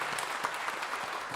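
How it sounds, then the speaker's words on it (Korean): A church congregation at a Korean Sunday service claps together in a brief burst of dense, even applause that fills the room. "하나님께 감사와 영광의 박수를 한번 올려드릴까요?"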